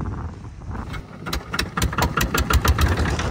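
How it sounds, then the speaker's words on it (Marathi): A fishing boat's engine starts up at a jetty, turning over and then settling into a loud, rhythmic chugging of repeated close pulses. "बोट चालू झाली"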